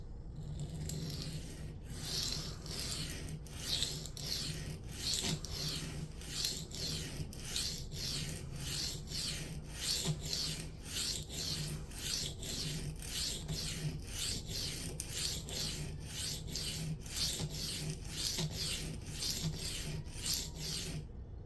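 Freehand sharpening of a Byrd Meadowlark 2 knife on an Atoma 140 diamond plate, a long series of evenly spaced gritty rasping strokes, steady and close, with no talking.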